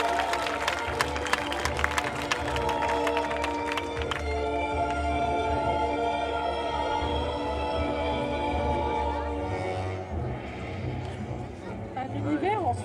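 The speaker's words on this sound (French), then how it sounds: "on peut l'applaudir bien fort" Audience applause for a cosplayer at a cosplay contest, crowd clapping that is sharpest early and thins out, with music and voices continuing underneath.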